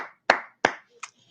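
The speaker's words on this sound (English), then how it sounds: "here's your round of applause" Two sharp, close hand claps about a third of a second apart, followed by a fainter third clap, in a short round of applause with no voices.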